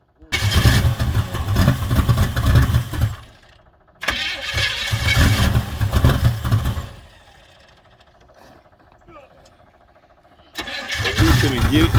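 A rebuilt Chevrolet Camaro engine is cranked and fired several times outdoors, loud bursts of starting and revving separated by a quiet gap, with people talking nearby.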